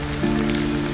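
Rain falling in a steady, hissing patter, with a low tonal hum running underneath throughout the short stretch.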